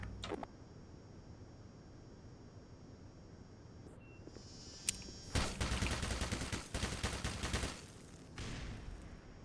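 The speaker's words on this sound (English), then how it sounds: "I'm gonna see if I can lob a grenade down there." Gunfire and an explosive blast in the video game Black Mesa as a grenade is lobbed at a turret, a sharp pop followed by a dense crackling volley of shots over a steady hum.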